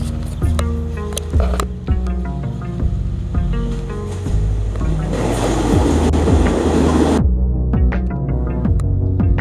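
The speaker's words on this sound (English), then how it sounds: "My train's here. Let's record it coming in." Train pulling into a station: loud rolling rumble with rhythmic clacks and squealing tones building, then a burst of hissing brake air, close by and without speech.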